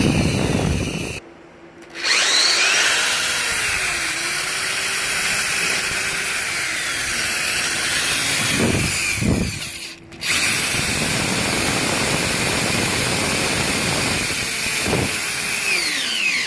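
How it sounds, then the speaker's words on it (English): Power drill boring into wood to mount a pot rack, a loud sustained whine with its pitch wavering under load, interrupted by two short pauses and a few brief bursts near the end. "So I'm going to start off right here and start drilling."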